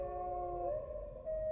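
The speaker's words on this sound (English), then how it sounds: "Wolf dogs. Half wolf, half husky." Half-wolf, half-husky wolf dogs in Metal Gear Solid: The Twin Snakes howl with sustained tonal wails that waver and overlap, steady for over a second before a brief dip, with no talk.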